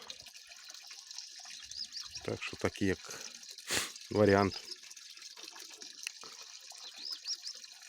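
Tap water runs quietly into a cart lined with oilcloth and plastic film, a faint steady wash beneath a voice that speaks briefly midway.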